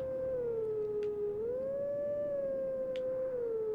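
A long wolf howl from wolf Link at a Howl Stone in Twilight Princess carries the Song of Healing melody, dipping and rising in one continuous tone over a steady low musical drone, with a few soft sparkling tones.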